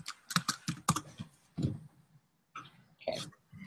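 Computer keyboard keys tapped in a quick cluster while typing a terminal command, followed by a few scattered keystrokes and soft handling noises, close and quiet with no talk.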